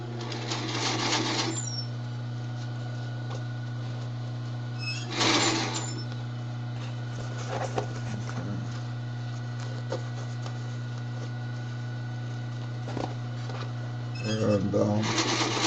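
Sewing machine stitching a messenger bag, heard in short buzzing bursts near the start, middle and end over a steady motor hum, with quieter clicks and handling noise between the runs.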